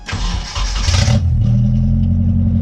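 A KA24DE-swapped Datsun 620 pickup cranks and fires with a brief burst of starter noise, then settles into a loud, steady, rumbling idle close by, with no talk.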